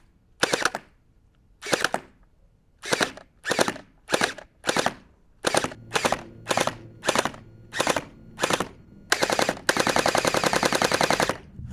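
A Splat gel ball blaster fires water beads in about a dozen short, loud buzzing bursts with brief pauses between them, finishing with a longer sustained burst, heard up close and without talk.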